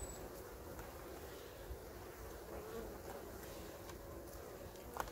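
Honey bees buzz around a hive in a colony short of food, a soft continuous drone with individual bees passing near, faint and steady throughout.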